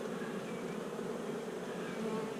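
Honeybees roar steadily at a hive being fitted with new frames, a dense, continuous buzz of many insects heard close up and unbroken throughout.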